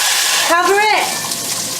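Boiling water is poured into a hot pan of sizzling rice, giving a loud hissing gush and crackle for about two seconds while a person speaks briefly.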